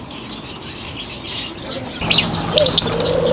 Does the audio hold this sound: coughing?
no